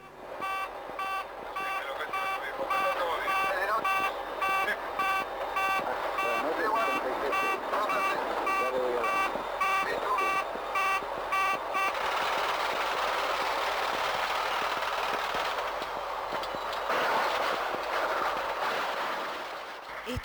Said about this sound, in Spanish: una alarma sonando insistentemente